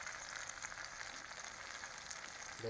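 Tomatoes frying in a pan for chicken gravy give a steady, close sizzle that holds evenly throughout, with a brief louder crackle near the end.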